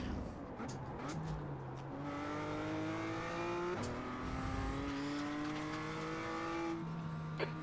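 A BMW M2 race car in iRacing at Snetterton revs up through the gears, pitch climbing then dropping at shifts, with faint tyre scrub and other cars nearby, steady and fairly loud.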